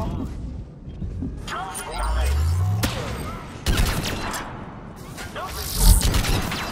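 Gunfire crackles in bursts during a Mass Effect 3 multiplayer match with a turret in play, mixed with heavy booms and a descending rumble, while voices talk over the fighting.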